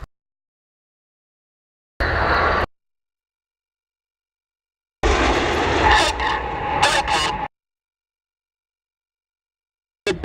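Red Arrows jet aircraft in a flying display roar past in two bursts, a short one followed by a longer, louder pass, with silence between them and no talk.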